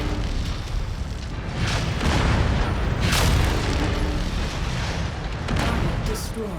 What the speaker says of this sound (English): Don't need to have extremely good aim with that LBX autocannon.